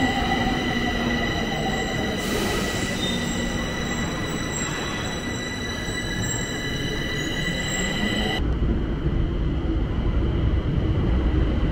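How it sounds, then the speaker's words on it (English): A Bucharest metro train sounds in the station: a loud, continuous rumble and rush with high squealing tones, which ends abruptly partway through, leaving a lower roar. "Here goes the metro station."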